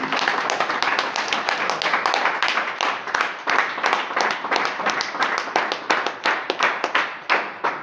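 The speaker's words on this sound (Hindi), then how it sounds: "आप लोग जोरदार इनके ताली करें" An audience at a district sports team celebration claps loudly and steadily for nearly eight seconds, a dense, close patter of hands with a loose rhythm.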